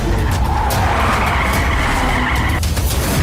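A car skidding during a movie chase scene, a loud continuous tire screech with engine roar dense throughout, close and dominant with no voices heard.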